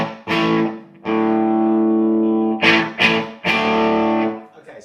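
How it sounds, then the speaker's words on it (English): Electric guitar played through a Bad Cat Cub IV 15R amplifier with gain at halfway and a very large reverb, a few sustained distorted chords with long washing tails, loud and close with no talking. "so actually there's too much reverb on there"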